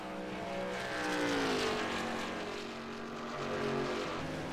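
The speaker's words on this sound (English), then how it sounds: "I think I just heard his truck cut out on him." Race truck engine, the No. 29 GM Goodwrench truck in a race, droning loudly with shifting pitch as the engine sputters and cuts out, amid broad track roar.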